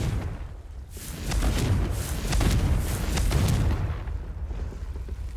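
A Confringo spell blast in Hogwarts Legacy, a rumbling, roaring explosion that swells and lingers for several seconds, heavy and close, with no talking over it.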